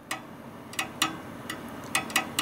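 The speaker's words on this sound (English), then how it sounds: "that's the sound of the fan going" A computer tower's power supply fan with worn bearings turns slowly, giving off an uneven string of dry ticks and clicks over a low steady hum, heard close and alone.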